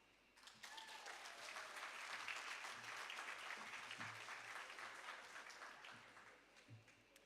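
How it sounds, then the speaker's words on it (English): Applause rises at the Alpha Junior School 2025 graduation ceremony, a broad sustained wash of clapping from a crowd that swells quickly and tapers near the end, with faint low murmurs underneath. "A round of applause again"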